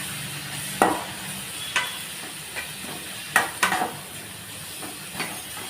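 Spices and chopped onion for a potato curry sautéing in a pan, stirred in a few distinct scrapes and clinks over a low, steady sizzle, with no talking.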